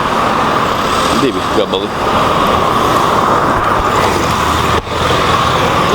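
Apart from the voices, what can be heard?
street traffic of cars and mopeds in Hua Hin, Thailand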